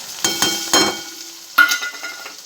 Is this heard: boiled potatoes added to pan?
yes